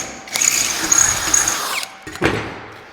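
A power drill runs briefly into a pilot hole during a build, whirring for about a second and a half, stopping, then giving a short second burst nearby.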